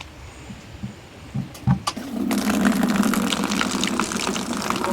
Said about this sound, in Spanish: Un poco de agua de canilla,